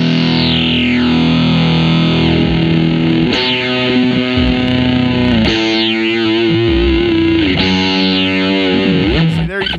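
Distorted electric guitar riff played through a Subdecay Harmonic Antagonizer pedal adding a deep sub-octave, with repeated chugging phrases and sweeping effect tones, loud and continuous throughout.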